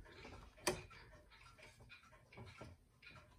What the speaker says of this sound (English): Here's another Windup regulator clock,